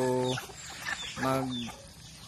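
A mixed-breed Basilan chicken on a provincial farm makes two clear bursts of clucking calls, close and fairly loud, separated by a short pause with some background noise.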